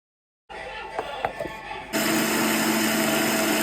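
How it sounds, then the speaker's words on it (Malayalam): Kitchen mixer grinding pappadam, coconut, dried red chili, salt, tamarind and curry leaves into chutney; after brief clatter, a loud steady whirring motor drone that runs continuously, close up, with no talking. "അതിന് വേണ്ടിയിട്ട് 3 പപ്പടം, തേങ്ങ, ഉണക്കമുളക്, ചുവന്ന മുളക്, ഉപ്പ്, പുളി, വേപ്പിൻ്റെ ഇല ഇതൊക്കെ കൂടി അടിച്ചു കഴിഞ്ഞാൽ പപ്പട ചമ്മന്തി റെഡി."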